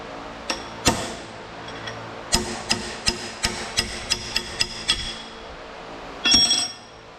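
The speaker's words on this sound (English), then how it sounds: "It's just a little hammer." Small hammer tapping on the bearing of a hydraulic coupler on a Cat 299D machine: a dozen or so light, sharp metallic taps in a loose steady rhythm, close and fairly clear, ending in a brief scraping rattle.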